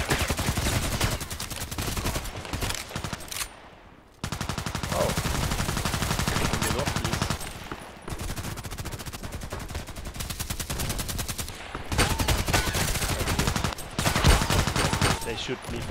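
Gunfire in the online shooter Contract Wars, loud, sustained bursts of rapid automatic fire up close with a few short pauses, chattering on almost without letup.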